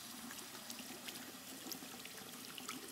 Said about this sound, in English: Take a shower, bro.